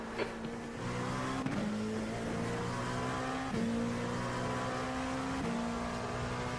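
Race car engines in a sim racing game at the Nürburgring, a steady close high-pitched drone rising with each gear, dipping briefly at shifts, loud and alone without talk.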